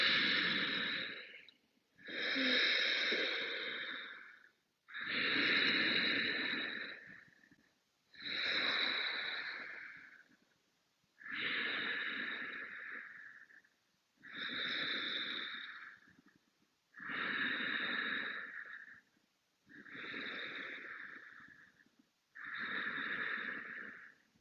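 Two people take turns breathing, producing about nine long, close, airy exhales and inhales in an even rhythm, each breath separated by a brief silence, with no speech.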